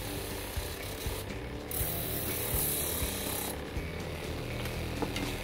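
A prototype sander powered by a microwave fan works over wood with fine sandpaper, giving a continuous rasping rub and mechanical whir that rises and falls in bursts.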